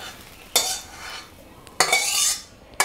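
A metal utensil scrapes and clatters against a frying pan as fried egg pieces for chowmein are moved into a bowl, three sharp scraping strokes with quiet gaps between them.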